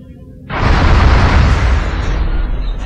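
An enormous robot explodes in the X-COM: Enemy Unknown video game, a sudden loud, sustained roaring blast that starts sharply and rumbles on with heavy low-end.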